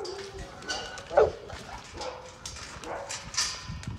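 Bully breed dogs at a kennel barking and yipping in short, scattered bursts with some whimpering, fairly close and moderately loud, mixed with a person's voice and background movement.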